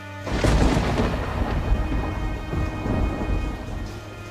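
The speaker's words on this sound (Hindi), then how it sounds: "उस रात रमेश का परिवार भारी बारिश में पीपल के पेड़ के पास सिमटकर बैठ गया।" Heavy rain pours down in a dense, continuous roar, with deep rumbles of thunder rolling underneath throughout.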